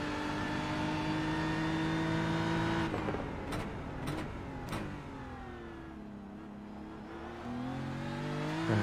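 A GT race car engine at Spa in a racing game, droning loud and steady, then dropping off under braking with a few sharp clicks before rising again with gear-shift pitch steps on the exit.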